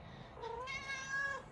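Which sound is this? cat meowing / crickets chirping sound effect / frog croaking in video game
cat meowing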